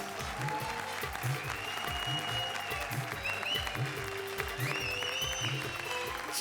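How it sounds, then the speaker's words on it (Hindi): A studio audience on a Hindi comedy show claps loudly for two performers, with sustained applause over a thumping rhythmic music beat and bright whistling tones. "जोरदार तालियां कृष्णा और सुदेश के लिए।"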